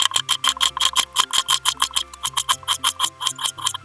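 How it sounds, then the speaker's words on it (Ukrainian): A knife dices onion into small cubes on a cutting board, giving a quick, even run of crisp chopping taps that sound close and loud, with music playing softly underneath. "нарізаємо мілкими кубиками."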